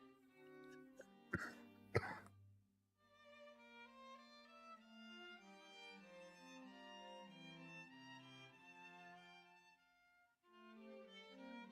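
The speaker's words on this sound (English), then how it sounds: "Hack cough." A couple of sharp, close coughs break out early, then soft tonal background music carries on alone.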